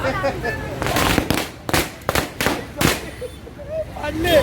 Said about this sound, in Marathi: आम्ही इथे फटाके सुद्धा फोडतो